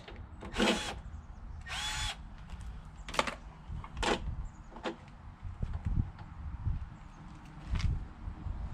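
A power drill fitted with a T27 star bit removes screws from a John Deere JX75 walk-behind mower, sounding in several short, loud whirring bursts close by, separated by quieter pauses and handling noise.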